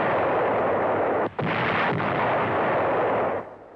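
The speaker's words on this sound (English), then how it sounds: "Yanks used only small arms in order to spare the cathedral." Sustained small-arms gunfire from WWII battle footage at St. Malo, a dense continuous roar of shots with a brief dip partway, loud and close before fading at the end.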